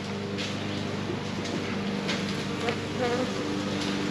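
Honeybees from a package install buzz in a dense, continuous drone, close and steady, with individual bees passing near now and then.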